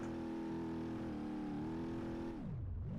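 A BMW car in BeamNG.drive accelerates hard, its loud engine note holding steady and then sweeping down and back up through a gear change near the end, continuous and close with no talk.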